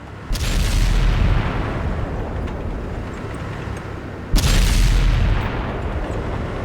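Two heavy booming tank gun shots ring out in World of Tanks, spaced about four seconds apart. Each is a loud, close blast followed by a long rumbling decay, over a constant low engine drone.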